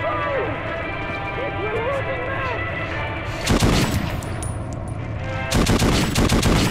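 Gunfire from the video game Metro 2033, with sustained bursts of shots around the middle and again near the end over steady background game noise, with voices heard in the mix.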